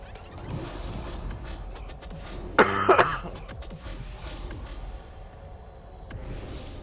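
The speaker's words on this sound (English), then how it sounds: "I think it has calmed down the cough a little, but still there." A short burst of coughing and throat clearing cuts through quiet background sound mid-clip, a few close harsh bursts lasting under a second.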